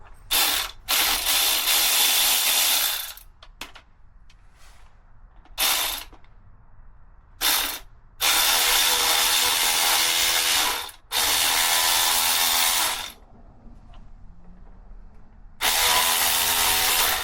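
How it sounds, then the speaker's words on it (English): An electric ratchet driving out motorcycle battery bolts, several loud whirring bursts of varying length separated by brief pauses, close by with no talking. "I decided to get the electric ratchet"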